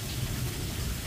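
Heavy rain from a storm in Dadyal pounds down in a dense, continuous roar, loud and close with a deep rumbling undertone, no voices over it.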